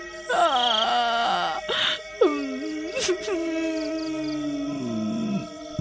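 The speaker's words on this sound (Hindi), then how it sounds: "आधी रात होने पर जंगल से किसी के रोने की आवाज" A drawn-out, wavering wail rises and falls in pitch from a forest at midnight, with short breaks between long mournful cries, loud and close over a quiet background.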